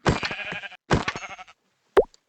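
Sheep in a video game bleat twice in quick succession, each call wavering and fairly close, followed by a short soft pop; no talking.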